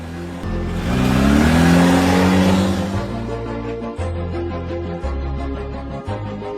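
A vehicle engine runs close by, first swelling into a loud rev with rushing noise, then settling into a steady mid-pitched drone broken by brief rhythmic dips as the throttle shifts.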